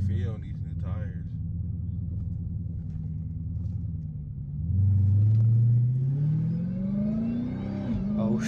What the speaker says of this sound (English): see how this Hellcat really feel on these new tires